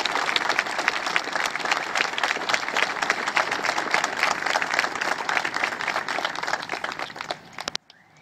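A crowd at a playground dedication ceremony in Milford, Connecticut applauds steadily and loudly for several seconds, then the clapping cuts off abruptly.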